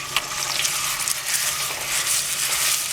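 Ground turkey hisses and crackles in hot olive oil in a large skillet, a steady close sizzle with small pops running the whole time and no voices.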